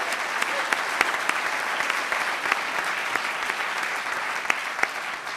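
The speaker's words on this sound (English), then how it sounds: "Let's give him a round of applause for that" Steady applause from an audience at a mayoral debate fills the room as thanks to the organizer, an even wash of many hands with a few sharper claps standing out.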